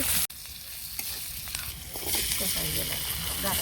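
Onions sizzle and fry in hot oil in a pan after the fish has been lifted out, with stirring scrapes over a steady crackling hiss that grows louder midway, close up in a village kitchen.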